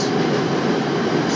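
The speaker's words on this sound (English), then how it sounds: "There's a CSX train crossing the bridge." A CSX freight train crosses a bridge over the Potomac, heard as a loud, steady low rumble and roar throughout the short span.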